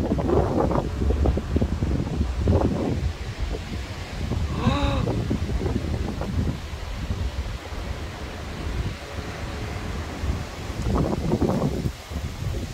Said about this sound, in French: C'est incroyable ce vent.